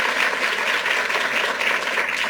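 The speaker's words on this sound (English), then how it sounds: "Let's give a round of applause to Assemblymember Rosenthal." Steady applause from an audience at a New York gun safety announcement, a dense continuous patter of many hands clapping at an even level with no talk over it.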